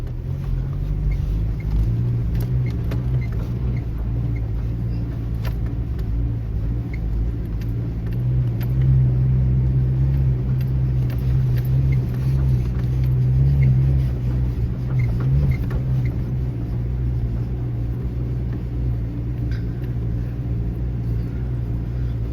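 Vehicle pushing through thick desert sand in the Sossusvlei dunes of Namibia, a steady low engine rumble and drone holding constant and fairly loud throughout with no talk.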